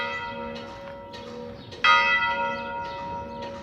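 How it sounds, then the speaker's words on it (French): Church bells ringing near the village of Propierre, a steady run of overlapping metallic tolls with long ringing harmonics, one louder strike partway through, no voices. "Les cloches sonnent, c'est l'heure d'aller manger."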